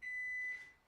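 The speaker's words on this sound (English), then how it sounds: "her alarm went off" A steady electronic alarm beep, a thin high tone sounding close and continuous for most of a second before cutting off, alone in a quiet room.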